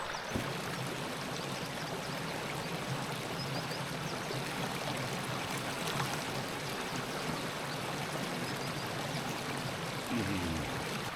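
Stream water runs steadily at a campsite in the Peak District while a water bladder is filled, a continuous near rushing and trickling that holds constant, with a faint low gurgle near the end.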